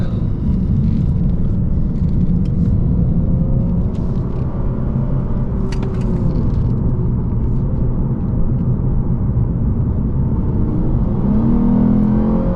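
A 2022 Lexus RC350 F Sport with modifications pulls hard up an entrance ramp, a loud continuous engine drone with rising pitch and road rumble heard from inside the cabin.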